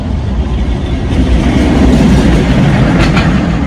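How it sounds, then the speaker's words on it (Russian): A tram speeds past on an Odesa street, a loud, steady rumble of rail wheels with faint clickety-clack that swells toward the middle and stays close throughout, with no voices. "Трамвай просто промчался."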